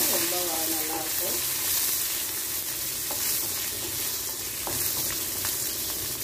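Sambar shallots sauté in a hot pan, giving a steady close sizzle and crackle of frying oil, with occasional stirring scrapes over the continuous hiss.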